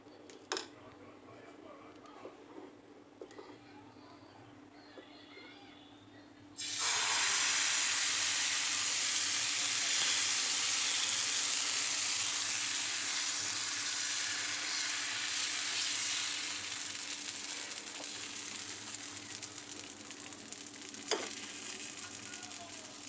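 Chila batter with onion, chilli and tomato hits a hot pan and bursts into a loud, steady sizzle that holds and slowly eases. Quiet handling sounds and a faint voice come just before it.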